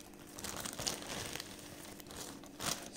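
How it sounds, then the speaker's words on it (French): A plastic sachet of herbs is cut open, giving close, quiet crinkling and a few sharp rustles. "Donc je vais couper le sachet carrément."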